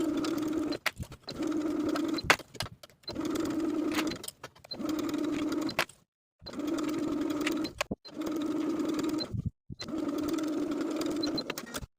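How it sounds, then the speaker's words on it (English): A sewing machine stitches a sleeve into the armhole of a ruffle sleeve top in bursts of fast, even running, about seven runs of a second or so each, separated by short pauses, close and clear with no talk. "Sew the sleeve into the armhole with a 3/8 inch seam allowance"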